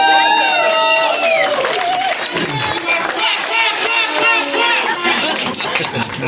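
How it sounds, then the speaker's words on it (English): An audience at a fundraiser at Diamond Jim's applauds, a sustained wash of clapping with whoops and cheering voices mixed in, loud and close throughout. "So please give them a hand of applause."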